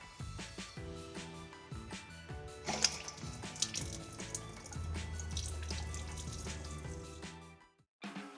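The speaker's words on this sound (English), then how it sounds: "let's go ahead and turn our faucet on" Water runs steadily from a kitchen faucet into a sink after a Delta Clarifi tankless reverse osmosis install, a close, continuous splashing rush with some clatter, stopping abruptly near the end.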